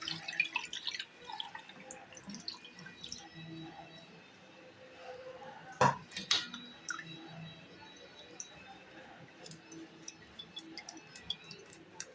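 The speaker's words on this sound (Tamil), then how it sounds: "இதை இப்போ வடிகட்டிக்கலாம்." Ground bamboo rice mixed with water is being strained. A steady wet trickle and dripping runs throughout, with a few sharper splashes and clinks about midway.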